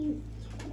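Pigeons cooing during a squabble among a mated male and female and other birds, a brief low throaty coo close by over a steady background hum.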